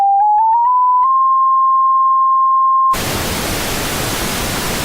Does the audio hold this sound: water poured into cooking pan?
no